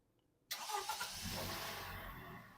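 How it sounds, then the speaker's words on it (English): A Toyota Yaris with a suspected alternator problem, left standing overnight, cranks and catches after a moment of near silence, then settles into a steady idle close by with no talking. "I'm going to start the car now."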